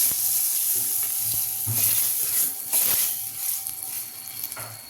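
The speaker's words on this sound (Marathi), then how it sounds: "तडका देऊन झाला माझा." Tadka tempering for palak paneer sizzles loudly in hot oil, a continuous close hiss with bursts of crackle and a few soft stirring knocks, with no voices.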